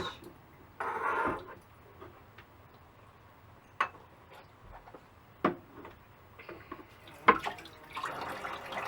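Cabbage being washed under a kitchen tap while making borscht: short bursts of running water splash at the start and end, with scattered clicks, taps and drips in between, all fairly quiet and close.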